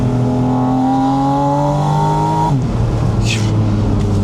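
A Porsche Spyder RS engine revs loudly and climbs in pitch, then drops sharply as the revs fall and settle into a rumbling idle, close up.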